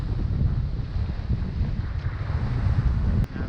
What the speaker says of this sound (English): We keep surfing down these 3-metre high waves.